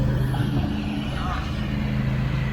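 A truck idling close by at a backyard job site while gravel is unloaded into buggies, its steady low diesel rumble continuous, with a voice speaking over it.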